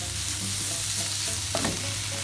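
Asparagus and onion are stirred in a hot pan with salt, pepper and thyme, giving a brief, close sizzle with a faint scrape of the spoon.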